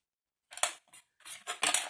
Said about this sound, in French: je pense que je vais plutôt tracer et couper proprement au ciseau